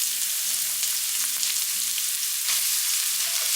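Chopped onions sauté in ghee in a pan, giving a steady close sizzle with faint scraping and stirring clicks throughout, no voices.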